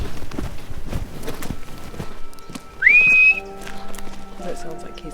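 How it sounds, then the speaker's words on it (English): A single loud, rising whistle from a Hadzabe hunter signaling the group in the Tanzanian bush, close by, heard over rustling, footsteps and faint voices. "Using whistle communication, we're able to track down the rest of the group"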